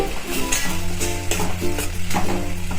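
Finely chopped tomatoes go into a hot garlic-chutney tempering for a Gujarati spinach sabzi, giving a steady close sizzle with occasional stirring scrapes throughout, and no talking.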